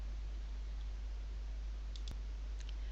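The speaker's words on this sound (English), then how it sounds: "I click and enter that item" A single sharp mouse click sounds near the two-second mark, selecting an item in Equella software, set against a steady low electrical hum with a couple of faint ticks.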